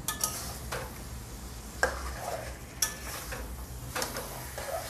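Chicken coated in masala stir-fried over a high flame, with steady sizzling and scraping of a spatula against the pan, broken by a few sharp clinks of metal.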